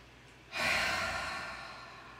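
A single long exhale out through the mouth during a floor-based relaxation class, soft and airy and fading slowly over about two seconds.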